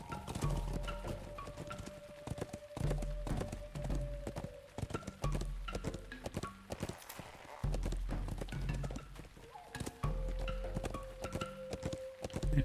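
Steady clip-clop of horse hooves trotting in Lord of the Rings Online, rhythmic and continuous over background music with sustained tones.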